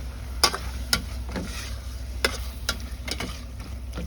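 Sotanghon soup is stirred in a pot, with soft scraping and clinking strokes at irregular intervals over a steady low simmering hiss.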